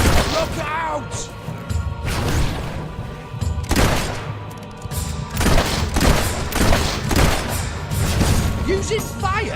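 Fire attacks in Fable 3 burst out in repeated loud blasts and crashes, a chaotic run of booming impacts with voices shouting in between.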